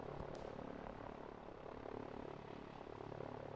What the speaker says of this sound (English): Yeah, so those helicopters are checking this forest.